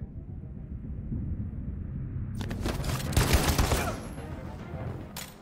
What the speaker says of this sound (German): Ein richtig guter Schuss, Connor.